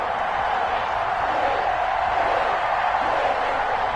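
Steady roar of a stadium crowd cheering in an EA Sports NFL video game before a Cleveland Browns versus Cincinnati Bengals matchup, a dense continuous wash of noise with no breaks over four seconds.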